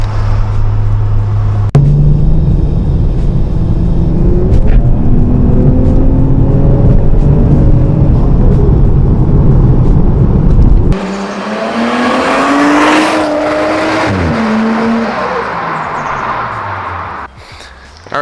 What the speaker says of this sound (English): the HKS high power exhaust is the right amount of tone, and it's quiet when you want it to be